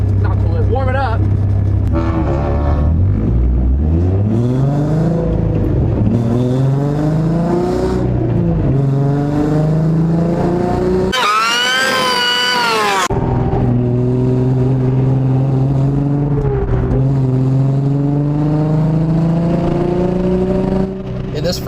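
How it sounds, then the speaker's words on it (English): A Nissan Z engine idles and revs at a track day, repeated rising pitch sweeps as the throttle is blipped, close and loud, with a brief harsh burst midway and voices talking over parts of it. "Car's still cold. I'm gonna have to warm it up."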